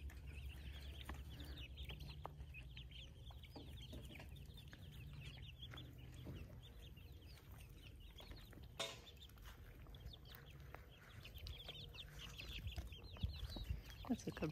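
Chickens cluck steadily, with ducks nearby, as an Australian Shepherd herds them into a pen. The clucking is fairly close and continuous over an outdoor background, with a few louder squawks near the end.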